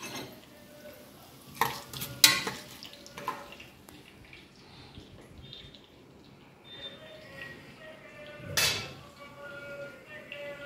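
Coriander seeds toasting in a pan, a faint steady hiss under intermittent metal clinks and scrapes of a spoon against the pan, close and fairly quiet.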